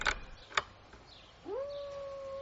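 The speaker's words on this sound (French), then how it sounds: "Non, c'est un chien dans une autre propriété." A dog howls from another property, a long sustained wavering howl rising and holding steady near the end, distant and moderately quiet after a couple of brief knocks.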